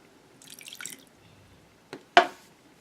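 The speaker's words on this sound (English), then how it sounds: "I'm going to put a little bit more of the starch and a little bit more water." Water poured and dripped into a starch-based slime mixture, a brief trickle followed by two sharp wet drips or splats, close and quiet in an otherwise still room.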